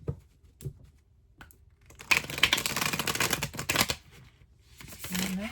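A Light Seers tarot deck being shuffled: a few soft taps and rustles, then a dense burst of riffling cards for about two seconds, fading to quieter handling and a brief low voice.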